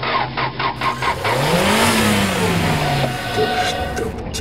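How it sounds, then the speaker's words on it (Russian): A faulty car engine revs unevenly, its pitch sweeping up then sagging back down in a rough, strained surge, close and loud with no talking. "Тут у вас движок не в порядке."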